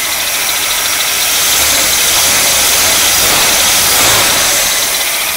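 A warmed-up 1956 Cadillac Sedan DeVille engine idles loudly and steadily up close, a dense even rumble with no tick and no voices over it.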